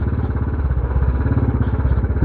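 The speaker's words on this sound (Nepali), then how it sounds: "बाइक पनि 15-20 दिनपछि चलाइरहेको" A motorcycle being ridden for the first time in 15-20 days gives a loud, close engine chug with a steady pulsing rhythm throughout.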